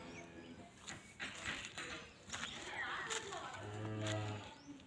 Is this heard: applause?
no